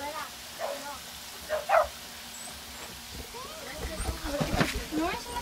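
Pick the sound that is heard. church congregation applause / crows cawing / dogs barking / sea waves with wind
dogs barking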